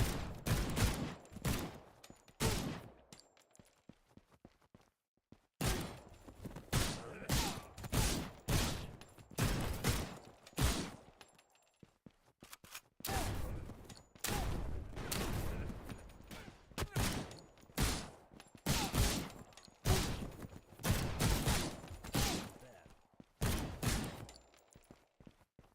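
Rapid bursts of gunfire in a video game, repeated volleys of sharp shots in quick succession with short gaps between strings, loud and close throughout.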